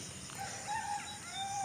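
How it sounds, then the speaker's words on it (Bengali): A rooster crows in the early morning, faint and distant, its drawn-out call rising over a steady hush of outdoor ambience with no voices. "এই যে মোরগের ডাক"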